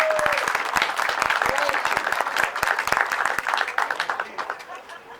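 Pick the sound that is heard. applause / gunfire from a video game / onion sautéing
applause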